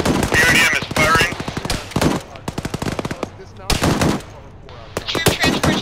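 A vehicle-mounted machine gun in Arma 3 fires in several loud, rapid bursts with brief pauses between them, punctuated by sharp single reports, while a voice speaks over the gunfire.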